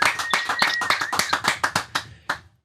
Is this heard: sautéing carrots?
no